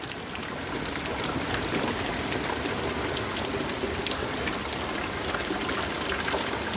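Hailstorm pelting a garden, a dense continuous hiss of hail and rain striking surfaces, steady and moderately loud with scattered sharper impacts, no speech.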